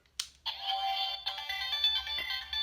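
A short electronic jingle of bright, melodic tones plays close by from a Kyuranger toy morpher after a brief initial chirp, lasting a couple of seconds with no talking.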